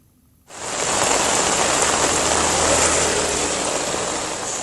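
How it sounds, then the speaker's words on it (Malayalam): Heavy pre-monsoon rain pours steadily in Kerala, a dense, loud and continuous downpour that starts abruptly and holds at full strength throughout, with a faint low engine-like rumble underneath. "നിർത്താതെ പെയ്യുന്ന മഴയിൽ പലയിടങ്ങളിലും വെള്ളക്കെട്ട് തുടരുന്നു"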